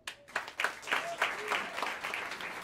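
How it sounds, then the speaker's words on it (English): Audience clapping in a jazz club during a live quartet set, scattered claps building into steady applause beneath someone speaking over a microphone. "Let's bring hands together and give a warm round of applause"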